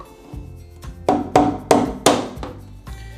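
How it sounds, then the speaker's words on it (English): Several sharp taps on a bathtub faucet part held by glue during a leaky faucet repair, about six close knocks spaced roughly evenly with quiet gaps between them. "You need to tap it because, you know, they have a glue in between right here on the corner."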